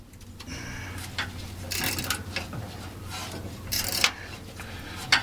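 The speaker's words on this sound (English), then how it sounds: "I'm just ratcheting the wrench up here" A ratchet wrench clicks in short bursts while tightening bolts on vehicle shocks, with a scraping rhythm of metal work at close range and no talk.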